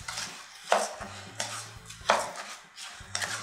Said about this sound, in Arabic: كده واقلبه كويس بالطريقة دي مع البصل.